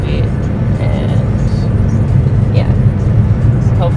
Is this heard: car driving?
yes